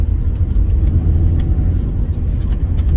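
A Rover K-series engine runs with a low, steady rumble throughout with no breaks, heard close and even, a deep drone with little change in pitch.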